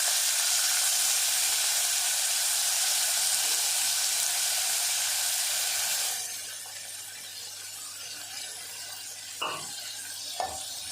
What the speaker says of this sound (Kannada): ಸ್ವಲ್ಪ ಸಾಸಿವೆ ಹಾಕ್ತಾಯಿದ್ದೀನಿ. ಆಮೇಲೆ ಅವರೆಕಾಳು ನೆನೆಸಿಟ್ಕೊಂಡಿದ್ನಲ್ಲ ಅದನ್ನು ಕೂಡ ಹಾಕ್ತಾಯಿದ್ದೀನಿ.